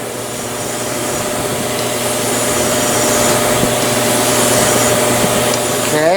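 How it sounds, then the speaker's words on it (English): Steady, continuous rasping of a file worked back and forth along a wooden hammer handle, loud and close with no pauses or talk. "we're just about done with the filing part of it"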